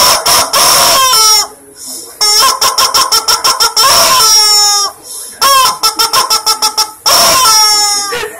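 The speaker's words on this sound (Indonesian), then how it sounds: "Ayam nak buat apa tu?" A rooster crows loudly and close by, several long cock-a-doodle-doo calls with bursts of clucking between them, in a rhythmic sequence with no voices.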